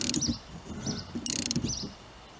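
Quick, short bursts of ratchet clicking as a 15mm socket turns the top shock nut on a Buick Park Avenue Ultra's air suspension, close and fairly quiet, in several separate spurts.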